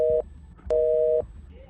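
A phone busy tone after a call is hung up: two clear beeps of a steady dual-pitch tone separated by a short pause, close and alone.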